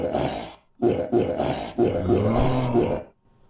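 Zombie attack growls from a Scratch top-down zombie shooter game, three or four loud guttural roaring groans in quick succession, close and alone without talk.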